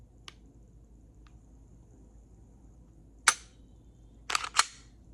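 Glock 45 Gen 5 pistol fitted with an Apex trigger: a faint early click, then a sharp metallic slide rack and two quick crisp trigger-reset clicks, close and isolated against a quiet room.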